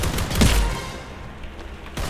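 Pistol shots in a video game combat arena, a quick burst of sharp cracks near the start and another single shot at the end, faint against a quiet background with no one talking.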